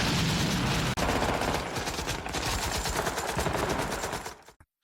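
Dense, loud automatic gunfire in a Vietnam war film as troops defend a perimeter against a Viet Cong attack, rapid continuous bursts for several seconds that cut off abruptly.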